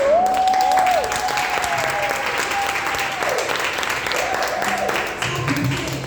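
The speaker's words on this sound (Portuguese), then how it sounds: "Vamos dar uma salva de palmas para a Adileia" Church congregation at a women's gathering applauding Adileia, steady clapping sustained for several seconds, with a sung or held vocal tone drifting over the start.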